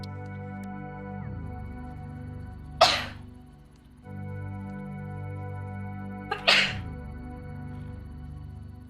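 Two sharp sneezes several seconds apart, loud and close, over a steady hum of machinery from a factory-building game.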